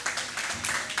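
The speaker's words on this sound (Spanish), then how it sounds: "Javier, por favor, levántate, un aplauso para Javier." Audience applause for Javier in a lecture hall at a public-health summit on the Aedes aegypti mosquito: a steady, moderate wash of many hands clapping that carries through the whole moment.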